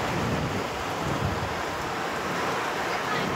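A sudden cloudburst unleashes a heavy downpour, a constant loud hiss of rain with deep wind rumble, unbroken throughout.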